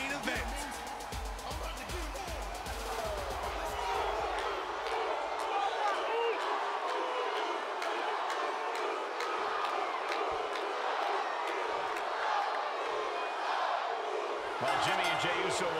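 Arena crowd in the WWE 2K24 video game at a Survivor Series main event between Jimmy Uso and Jey Uso, a steady loud roar of cheering with sharp thumps early on and bursts of noise throughout.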